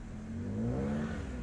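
A car engine revs up steadily while pulling away on a half-clutch in crawling uphill traffic, a rising mechanical drone that holds loud and close for over a second.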